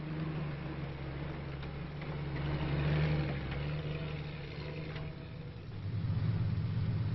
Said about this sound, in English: A well-known World War II vehicle was the amphibious Weasel